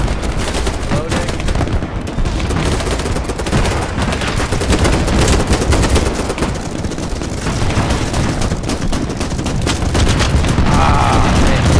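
Dense, continuous gunfire with bursts of automatic fire and heavy booms from explosions in the shooter game Battlebit Remastered, loud and sustained throughout.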